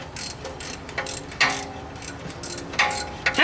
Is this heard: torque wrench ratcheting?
yes